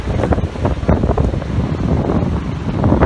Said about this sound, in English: it's very cold, windy for June summer night